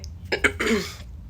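A single close cough from someone with a cold, a short harsh burst of two or three throaty hacks with no talking around it.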